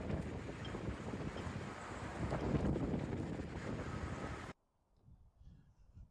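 Strong wind buffets the microphone with a loud, rough rumble for several seconds outside the Oklahoma State Capitol, then cuts off abruptly to a quieter, sheltered background in a nook.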